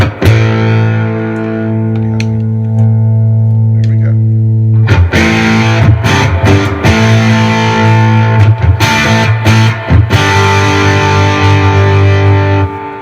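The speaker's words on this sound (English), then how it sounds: "When you put a heavy drive on it, here's the Mooer Hustle drive." A Gretsch Electromatic G5420T electric guitar through a Mooer Hustle Drive overdrive pedal rings out with thick sustained chords, then choppier strummed hits, loud and distorted with no talking.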